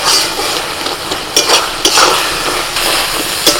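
Chicken pieces are stirred in a hot pan and cooked until dry, with steady loud sizzling and frying and repeated scrapes and clinks of a metal spoon against the pan throughout, with no talking.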